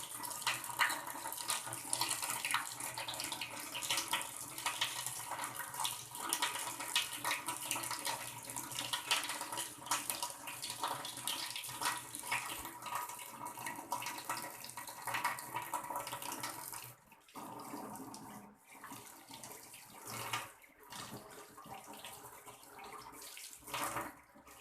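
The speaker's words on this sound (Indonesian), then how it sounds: "Setelah itu kita buka keran." Water runs steadily from an opened tap for handwashing at a sink, a continuous splashing hiss that briefly drops out and changes as hands move under the stream.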